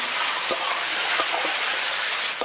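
Papaya and long-cut potato strips fry in a pan with cumin, turmeric and salt, giving a steady close sizzle and hiss with a few soft stirring knocks.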